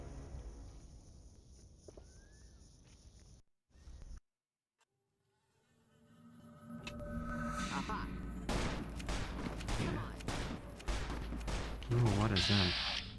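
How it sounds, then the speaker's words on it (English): Gunfire in Fallout: New Vegas, a burst of rapid sharp shots crackling after a quiet stretch, loud and dense in the final seconds alongside game sounds. "But I think someone else was shooting at us"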